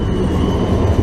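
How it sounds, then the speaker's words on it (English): A Budapest tram pulls in close by, a continuous loud rumble of wheels on rail with faint squeal and rattling. "And here's our return tram to Octagon"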